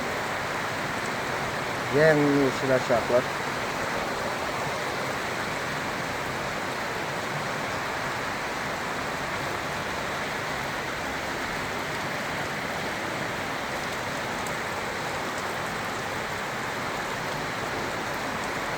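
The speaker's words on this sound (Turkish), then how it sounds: "Hava çok güzel yağmurlu." Steady heavy rain hisses continuously during a thunderstorm, close and even; a person speaks briefly near the start.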